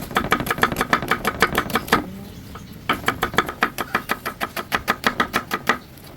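Rapid knife chopping of food on a board at an outdoor camp cook-out, a steady run of close, sharp, evenly spaced strikes that pauses briefly mid-way and then resumes at the same quick pace.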